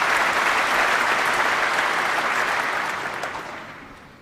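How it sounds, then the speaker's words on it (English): Snooker crowd at the 2008 Masters first round, Ronnie O'Sullivan against Stephen Maguire, breaking into sustained loud applause that rolls on steadily, then slowly thins and fades toward the end. "Oohs and ahs from the crowd"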